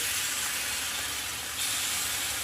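Appe batter spooned into a hot appe pan over a low gas flame sizzles as a loud, steady broadband hiss that jumps up slightly partway through and continues without a break.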